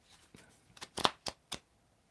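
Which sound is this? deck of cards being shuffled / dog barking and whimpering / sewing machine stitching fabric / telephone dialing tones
deck of cards being shuffled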